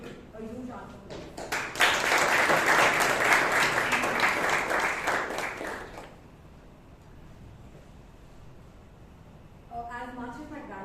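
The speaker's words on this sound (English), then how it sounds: "a huge round of applause." An audience at a Toastmasters club meeting in Bangalore breaks into applause for about four seconds, a dense burst of clapping that fades out, with a speaker's voice before and after.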